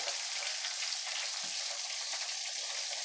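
Chicken pieces coated with oats deep frying in hot oil for homemade crispy chicken, a dense steady sizzle and crackle close by, unbroken throughout with one soft low bump midway.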